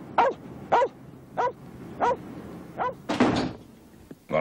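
A dog barks indoors in a home, about six sharp, evenly spaced barks, close and loud, with a thud or door-like knock near the end and no talking.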